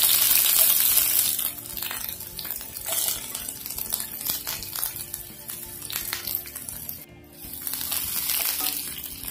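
Ginger, garlic and chillies fry in a pan for cabbage pickle, hissing and crackling loudly at first, settling into a busier sizzle, briefly dipping quiet, then swelling back up.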